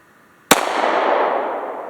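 A single pistol shot fired double action gives a sharp, loud crack. It is followed by a long, bright echoing decay that fades over about a second and a half, with no voices.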